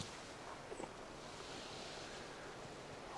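Hard crosswind over an open golf course: constant rushing, roaring wind noise buffeting the microphone, broadband and steady for the whole stretch, fairly faint overall with no voices.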